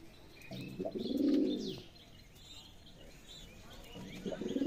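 Racing pigeons coo in their coop at sunrise, with a deep, swelling coo up close followed by quieter murmurs and another coo building at the end, while light chirps come from other birds in the loft.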